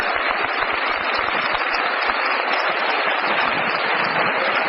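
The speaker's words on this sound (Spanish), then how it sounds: "un gran aplauso." An audience at an evening talk or event breaks into sustained applause, a dense, steady wash of clapping from many hands that holds at an even level throughout.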